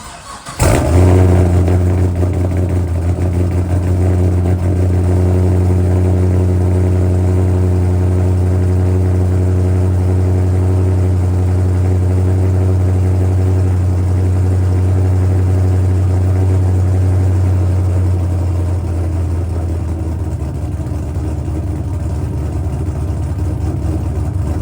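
A Pontiac GTO engine catches with a sharp start and settles into a loud, steady, deep idle rumble that runs on without break, close by and with no voices.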